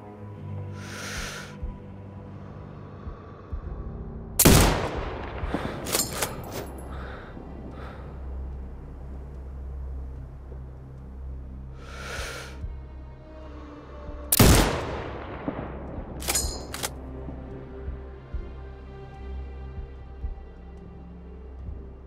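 Two loud, sharp sniper rifle shots ring out in Sniper Ghost Warrior Contracts 2, about ten seconds apart, each followed by a few softer clicks and bolt sounds over a low ambient bed.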